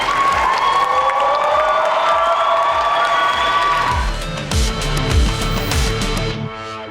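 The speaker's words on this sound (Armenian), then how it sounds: "մի հատ բարձր ծափարենք ու ճանապարհենք" Loud, dense applause from a game show audience fills the studio, mixed with cheers and whoops, and sustained clapping swells toward the end under a few tonal sounds.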